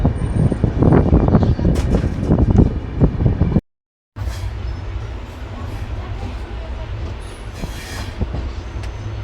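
The 13009 Howrah–Haridwar express rattles along with bursts of clattering and squealing wheels, then falls briefly silent before resuming as a steadier, lower rolling rumble heard from aboard the train.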